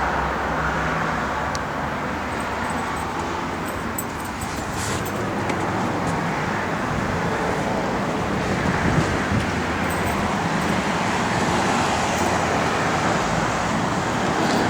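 Interior road noise from a 1965 Pontiac Tempest with a 400 engine cruising down the road: a continuous broadband rumble of tires, engine and wind, steady and fairly loud for the full stretch.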